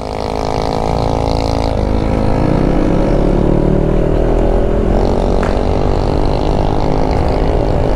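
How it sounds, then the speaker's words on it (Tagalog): A motorcycle engine running with no muffler, exhaust pipe or canister: a loud, raw, rasping roar close by, with revs rising and falling throughout. "Hello, walang pipe oh. Walang muffler oh. Walang canister."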